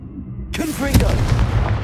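A Confringo blasting spell explodes in a Harry Potter video game: a sudden loud burst that cuts in sharply, followed by a rumbling, crackling blast with a strong peak and a sustained noisy tail.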